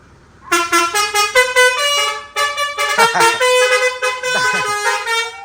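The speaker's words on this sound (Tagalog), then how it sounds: "Yung whistle horn." A loud vehicle whistle horn sounds in a series of rapid, rising and falling tonal toots, close and continuous over several seconds.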